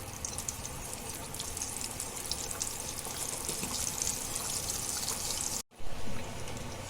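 Gram flour dumplings (besan badi) frying in oil make a continuous crackling, bubbling sizzle at close range, broken by a brief cut near the end before the frying noise returns, with no voices.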